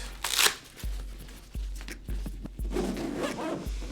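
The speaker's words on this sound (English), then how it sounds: "I'll zip it back up for now." A bag zipper being pulled in several short, scratchy runs, with soft thuds between strokes, close and fairly loud.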